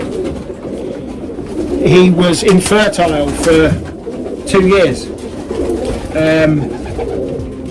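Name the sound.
pigeons cooing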